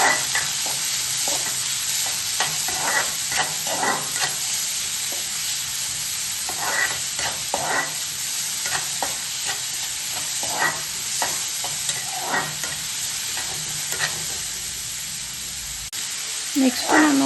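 Thick-cut onion frying in hot oil in a pan for avalakki chitranna (flattened rice), a steady close sizzle with repeated stirring scrapes and clinks throughout, no talk.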